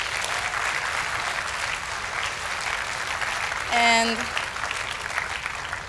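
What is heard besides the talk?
audience applause at school concert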